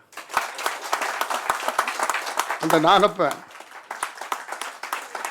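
Steady, dense audience applause at a Tamil literary society's memorial gathering for Pammal M.K. Mani, continuing throughout, with a voice briefly speaking over the clapping midway.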